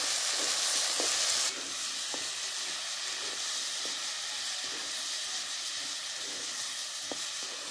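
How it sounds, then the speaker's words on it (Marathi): Green chillies frying in hot oil with cumin, a loud continuous sizzle with the occasional light scrape of a spoon stirring in the pan, close and steady. "असं हलायचं मिरच्या तेलामध्ये टाकल्यावर"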